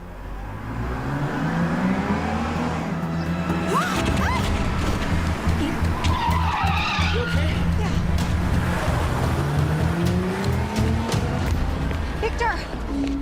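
A car skids and strikes a person in a dramatic scene, with engine revving, tire noise and a crash amid busy background sound and people talking.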